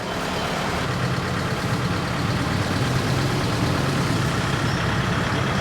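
A truck idles with no sides on its bed, holding a steady, loud low rumble throughout with no voices over it.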